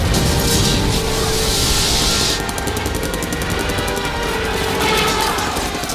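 Dense, loud gunfire and explosions from a war film's battle scene roar continuously, with rapid rattling bursts and booming blasts of shells and bombs layered into a chaotic battle din.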